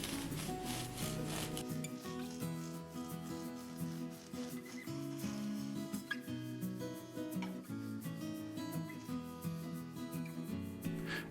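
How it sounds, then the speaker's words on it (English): A knife saws through a freshly baked loaf of honey and oatmeal bread, giving a continuous soft rasping and scraping of crust and crumb with small irregular bumps, close and fairly quiet, without voices. "I'll cut a couple of slices and let you see the inside of the bread."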